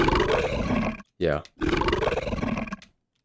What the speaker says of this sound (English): This is a lion roar, and it has been pitched down